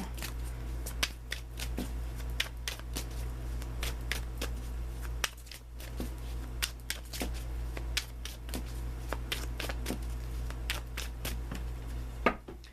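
Tarot cards are shuffled by hand at close range: crisp flicks and snaps repeat steadily over a low, constant hum, with no one talking.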